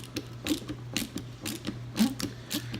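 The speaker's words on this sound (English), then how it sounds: "And then we'll loosen up this top part. You can still use the small head" Small Phillips screwdriver loosening screws on an Andis hair clipper, giving a close, dry series of light clicking and creaking turns in quick irregular bursts.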